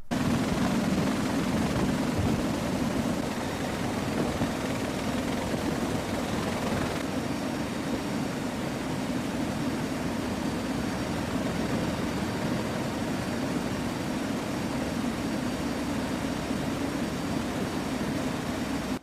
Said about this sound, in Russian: Вот несколько красивых кадров вертолета, идущего на дозаправку